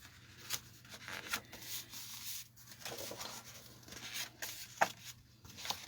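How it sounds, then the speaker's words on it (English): Card stock paper is folded and rubbed to crease it for a handmade notepad, soft close scraping and rubbing strokes, quiet and intermittent. "So now I should be able to fold it over."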